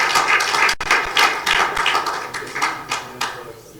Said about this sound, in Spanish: denle un aplauso al Señor, denle un aplauso